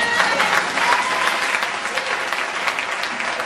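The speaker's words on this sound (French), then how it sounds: "Acclame Jésus" A church congregation applauds, a dense, steady clatter of many hands clapping at moderate distance for a few seconds, with no voices standing out.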